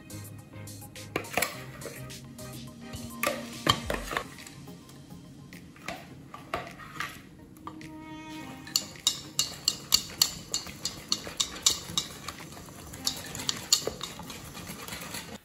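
Chocolate melting with sugar and hazelnut oil, stirred in a bowl or pan, with a utensil scraping and tapping against the sides in irregular then quicker clinks, close and without talk.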